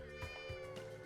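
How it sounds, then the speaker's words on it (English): A cat in the video game Legend of Nayuta: Boundless Trails gives a short, clear meow over soft background game music. "Oh, hey, look, a cat."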